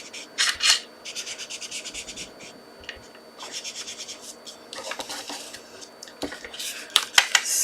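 A brush is rubbed back and forth over a photopolymer stamp to work ink on, giving close, soft scratchy strokes in uneven bursts with short pauses between them.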